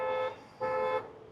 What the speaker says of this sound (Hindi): तो हॉर्न जो है वो डुअल टोन वाला इंस्टॉल किया गया है। साउंड आप सुनिएगा।